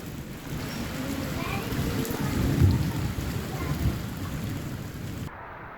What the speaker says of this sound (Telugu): ఉదయం ఈదురుగాలులతో భారీగా వర్షం కురిసింది.